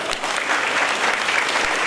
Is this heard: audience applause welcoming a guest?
yes